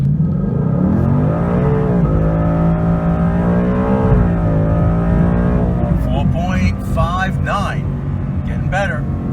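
A 2018 Mustang GT with the 10R80 ten-speed automatic accelerating hard, its engine note climbing through several rising sweeps and upshifts, loud and close from inside the car, with some tire or road noise near the end.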